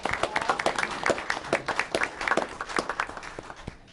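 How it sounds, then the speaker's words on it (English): Audience applause at a Berkeley city council meeting, a moderate room of people clapping steadily for a few seconds before tapering off. "So if you could please give him a round of applause."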